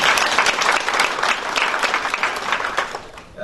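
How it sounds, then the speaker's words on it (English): An audience applauds at a live-streamed gathering, giving another round of clapping for a guest: dense, sustained clapping that fills the whole stretch and tapers slightly at the end, with no talking over it. "let's give another round of applause"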